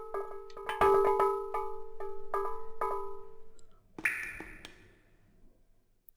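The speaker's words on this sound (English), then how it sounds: "What on earth was that harsh ringing?" Harsh metallic ringing strikes repeat several times in quick succession, followed by a brighter, noisier burst and a fading tail; no one speaks.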